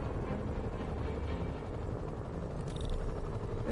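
A helicopter in the Marvel's Spider-Man video game gives off a steady, dense rotor drone that holds evenly throughout without any talking.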